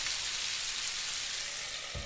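Chicken pieces for dangri kebab fry in a pan over a medium flame, giving a steady, close hiss of sizzling oil throughout with a faint low clatter near the end.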